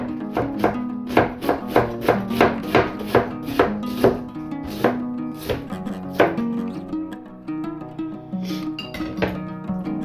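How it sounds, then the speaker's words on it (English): A knife shreds half a head of cored cabbage on a cutting board in a run of about fifteen quick, even, close chops that slow and spread out toward the end, with no talking. "I've got a half a head of cabbage with the core removed. And then we're just going to slice that down. Shred it pretty good."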